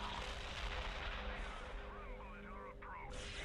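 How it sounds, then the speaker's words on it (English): Missile strike explosions in a Warhammer 40K strategy game, heard as a continuous deep rumble of blasts and booms mixed with battle noise, with a voice talking over it. "I'm going to use a missile strike to hit them."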